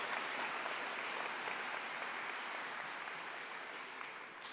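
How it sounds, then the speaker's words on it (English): Faint, distant applause fills a large hall at a medical school commencement ceremony as the audience claps for graduates' families, friends and supporters, an even, sustained patter with no voices on top. "Let's give all of our families and our friends and supporters a nice round of applause."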